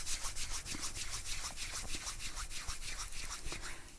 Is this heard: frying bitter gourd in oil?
no